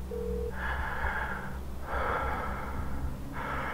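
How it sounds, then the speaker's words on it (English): Heavy, slow breathing comes in three long, rasping breaths through a phone line, each gap filled with low hiss and a brief tone at the start. "he could hear someone breathing on the other end"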